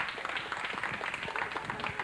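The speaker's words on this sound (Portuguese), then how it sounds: "com os aplausos do programa Fala Sério" Studio audience applause on the Brazilian TV show Fala Sério, a steady dense wash of many hands clapping throughout, moderately loud and close.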